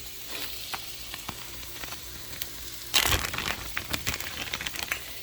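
Tomatoes hitting a hot pan, starting a steady sizzle that jumps to a loud, crackling burst as they land, then keeps popping and spitting close by with no talking.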